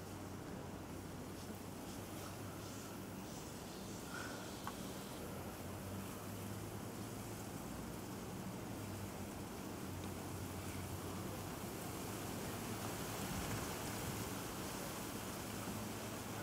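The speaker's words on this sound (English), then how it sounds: "It's quite windy today, so they are moving around quite a lot." Steady broadband wind rushing outdoors among palm trees, buffeting continuously with a dense, noisy roar and no pauses.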